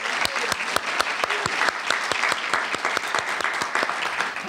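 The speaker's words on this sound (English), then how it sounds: "So give them a round of applause." A small audience at a Lake Oswego Reads art show and artists presentation applauds with steady, evenly spaced claps that hold at a moderate level for several seconds without fading.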